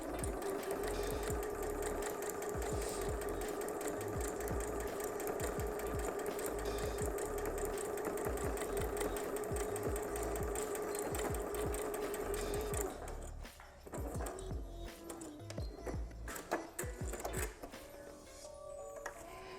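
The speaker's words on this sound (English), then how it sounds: "you're gonna sew all the way down and do a back stitch at the end at 1/4 inch seam allowance" Sewing machine stitching a plain seam with a back stitch at the end, a fast steady mechanical whirring that runs for about thirteen seconds, then shifts to lighter intermittent clicks and rattles.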